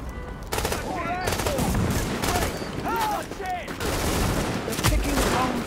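Gunfire from the video game Tom Clancy's The Division: dense bursts of automatic shots and rapid fusillades rattle throughout, mixed with game effects and brief radio-style voice chatter.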